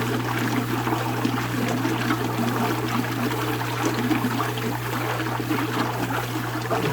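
Water rushes out steadily after a stopper is pulled during fishpond cleaning, draining in a continuous close gurgling flow with a low hum beneath.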